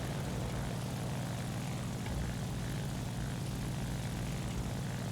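An Fw 190 A-5/U2 propeller fighter in the War Thunder video game drones steadily and loudly, a continuous engine roar that holds unchanged throughout with no one talking.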